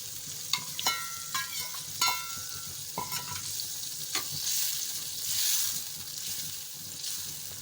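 A masala of tomato and green chilies sizzles and fries steadily in a pan, with intermittent clinks and scrapes of stirring over a continuous hiss that swells toward the end.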